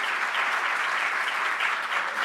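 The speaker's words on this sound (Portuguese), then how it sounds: "Pessoal, eu gostaria de uma salva de palmas" A seminar audience of municipal tax officials gives a sustained round of applause, an even, dense wash of many hands clapping at steady volume with no voices.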